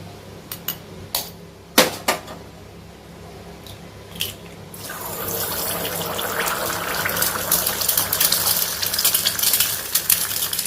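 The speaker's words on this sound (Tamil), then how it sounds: "இப்போ முட்டையை உடச்சி ஊற்றிக்கலாம்" Eggs cracked and poured into a pan for a Tamil spoon egg curry, a few sharp taps and cracks followed by a steady sizzling wash as they hit the hot oil, close and with no speech.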